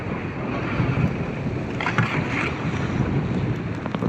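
Small wooden outrigger boat pushing through rough waves at sea, a steady loud roar of wind and rushing water with occasional splashes, no voices.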